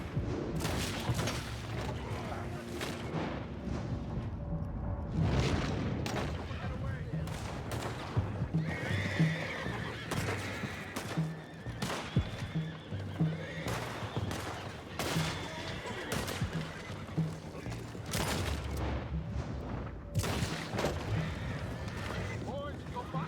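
Horses neigh and whinny in the Red Dead Redemption 2 video game, with hooves clopping and bursts of gunfire over a busy game soundscape, and characters talking throughout.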